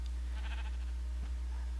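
A short bleat from a game sheep, thin and synthetic, set against a steady low electronic hum with a soft thump near the end.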